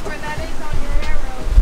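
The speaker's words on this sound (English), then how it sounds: "We're in the channel now between Martinique and Dominica, and it's pretty windy." Steady wind of 15 to 20 knots roars against the microphone over the low rush and slap of waves around a catamaran sailing a channel between Martinique and Dominica, loud and continuous.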